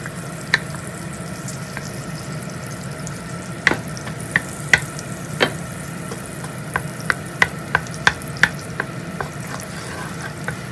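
Butter melting in a pan for a macaroni gratin sauce gives a steady soft sizzle, with sharp utensil clicks and scrapes against the pan scattered throughout, no voices.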